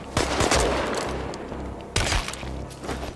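A fully upgraded gun fires in Chernobylite, with a loud shot near the start and another sharp shot about two seconds later, each trailing into a rumbling echo, with no talk.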